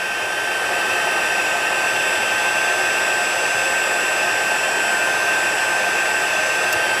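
A heat embossing tool blows a steady, even whoosh over a stamped butterfly on watercolor paper, continuous from start to finish with no talking.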